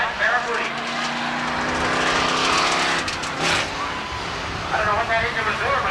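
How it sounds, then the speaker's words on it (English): A 1987 Dodge Barracuda race car at Seekonk Speedway roars out of a turn, its engine loud and uneven with sputtering, changing pitch, while an announcer talks over it throughout. "I don't know what that engine was doing, but it was making all kinds of funny noises coming out of that turn"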